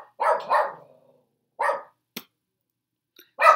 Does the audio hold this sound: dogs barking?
yes